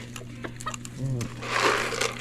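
A few short hen clucks up close, followed by a burst of rustling or flapping, with a faint low hum underneath.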